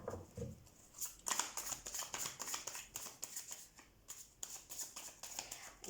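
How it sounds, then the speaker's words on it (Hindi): Tarot cards shuffled by hand, soft close riffling and flapping in quick repeated bursts with an irregular rhythm, quiet and without talk. "तो सबसे पहले हम कार्ड शफल कर लेते हैं आपके लिए"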